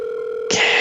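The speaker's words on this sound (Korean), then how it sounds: "핸드폰이 신호만 가는 거예요." Mobile phone ringback tone from an unanswered call to a mother: a single steady electronic tone lasting about half a second, then cut off by a burst of hiss.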